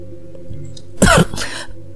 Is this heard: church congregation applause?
no